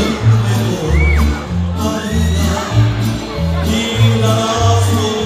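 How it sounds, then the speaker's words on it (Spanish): Crowd whoops and cheers at a quinceañera party, rising over loud, thumping dance music with a steady pounding bass beat, brief excited shouts breaking through a few times. "un aplauso para ellos"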